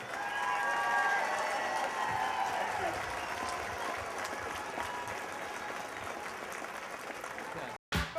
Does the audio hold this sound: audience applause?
yes